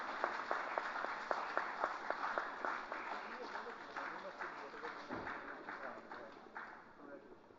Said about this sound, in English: Give a big round of applause to Rohit Jain.